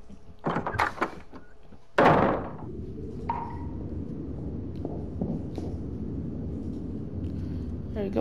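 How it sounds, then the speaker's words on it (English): Drawers being searched in the Murder House video game, heard as a few quick wooden knocks followed by one loud thudding slide and clunk, then a low steady rumble with faint scattered clicks. "Can you stop searching drawers?"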